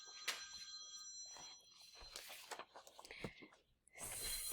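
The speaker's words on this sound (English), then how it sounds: "I'm pretty sure you guys can hear the phone ringing." A telephone rings in a home room: faint, metallic bell-like trills repeating in short bursts, mixed with clicks and quiet rattling, all at low level.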